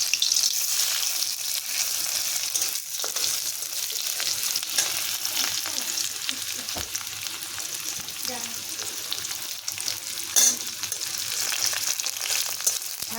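Chopped onions fry in a pan while preparing a Bengali okra dish, giving a steady hiss and sizzle with occasional stirring scrapes and clinks close by.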